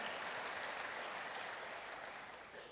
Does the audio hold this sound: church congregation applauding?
yes